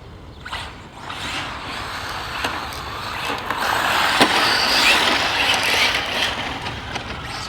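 Arrma Felony and ZD Racing EX-07 RC cars drift on a surface, with a buzzing electric whine that rises and falls alongside scuffing tire noise and occasional sharp clicks, fairly close and continuous.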